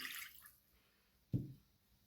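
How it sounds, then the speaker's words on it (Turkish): Two cups of lukewarm water are poured into a kneading bowl for bazlama flatbread dough, making one short, close splash that fades quickly in an otherwise quiet room. "2 su bardağı ılık suyum var. Bunu yoğurma kabıma alıyorum."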